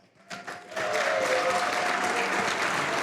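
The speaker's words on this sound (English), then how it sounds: "One more round of applause." Applause for the tech crew at a Summer Games Done Quick 2023 event starts with a few scattered claps and quickly swells into a loud, sustained round from a crowd, continuing steadily to the end.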